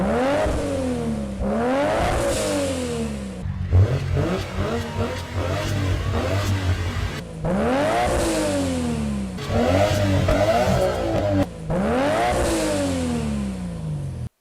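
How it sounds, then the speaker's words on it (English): A Nissan Skyline R34 GT-R fitted with an HKS T04Z turbo, HKS downpipe, cams and high-power exhaust revs hard and loud, climbing repeatedly through the gears with sharp rising engine notes, gear changes and brief lulls of turbo whoosh. "Listen to the top-speed Autosport R34 GTR,"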